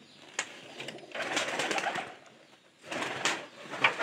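Pet pigeons coo near their loft, soft low murmuring bursts in two or three clusters with short quiet gaps between them.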